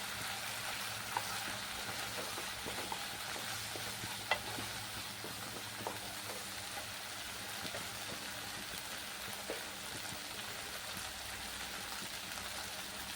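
Turmeric, chili and coriander powder sizzle steadily in a hot pan for a fish malaikari, a continuous soft frying hiss with a few faint stirring clicks and no talking.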